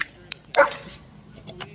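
A puppy on a farm gives a short, sharp yelp after touching an electric fence, a single close burst followed by faint whimpering noises against quiet outdoor background.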